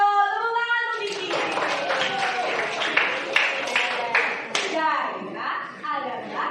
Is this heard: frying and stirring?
no